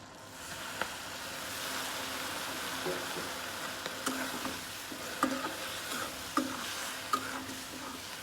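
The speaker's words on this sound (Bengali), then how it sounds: "সামান্য জল দিয়ে কষিয়ে নেব" Ground coriander and cumin spices being stir-fried with a little water in a pan for a pabda fish curry, a steady soft sizzle with scraping stirring and occasional light clicks of the spoon, no talking.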